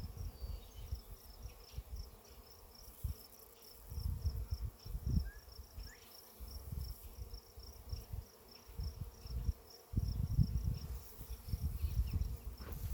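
A dense, low hum of many honeybees buzzing continuously up close in an open hive, with shifting swells and occasional handling thumps, no voices.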